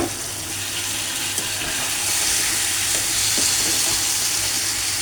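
Chana dal sizzles loudly in a pan of sautéed onion, chili and spices, a continuous close hiss with occasional stirring scrapes and no talk.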